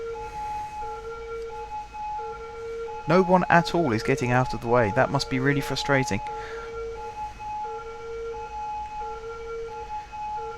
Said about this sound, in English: There's an ambulance trying to get through as well.